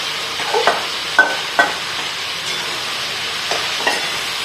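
Marinated vegetables and spice paste for paneer mushroom biryani fry in a pan with a steady, moderate sizzle. Several sharp clicks of a spoon against the pan stand out, and no one speaks.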